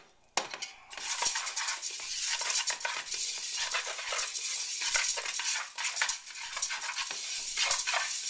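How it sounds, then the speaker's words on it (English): Chopsticks stir and toss rice in a pan with sesame oil and salt, a quick, busy clatter and scrape that runs nearly continuously up close, with faint sizzling underneath. "Now I'm using chopsticks just to stir this around."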